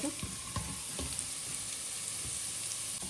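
Chopped onion frying and being stirred in a steel pan, with a steady close sizzle and occasional scraping stir knocks throughout.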